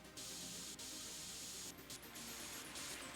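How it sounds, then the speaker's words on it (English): Spray can paint hissing steadily in PC Building Simulator 2 while a PC case is painted entirely red, a continuous loud airy spray with brief pauses and renewed bursts. "Select the spray can to start painting."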